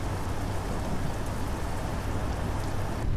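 Dense, steady rain hisses and patters during a storm in American Truck Simulator, an even wash of downpour throughout with no voices.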